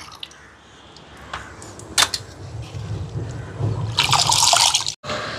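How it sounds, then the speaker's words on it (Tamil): A little water is poured into a cooking pot while preparing a rice dish, giving a soft splashing trickle that builds and grows brighter near the end before cutting off abruptly. No one speaks. "இப்போ இதில் கொஞ்சமாக தண்ணி விட்டு"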